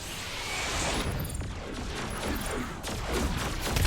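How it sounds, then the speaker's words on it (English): Rapid bursts of shotgun fire in the action video game Agents of Mayhem, loud and dense over a constant backdrop of game noise, with repeated sharp blasts. "I don't generally use shotguns in games, but they are really fun to use"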